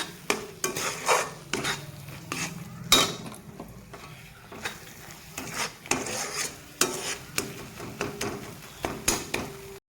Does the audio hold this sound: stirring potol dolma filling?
yes